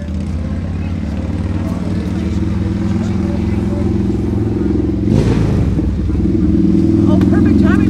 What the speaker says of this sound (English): perfect timing for a motorcycle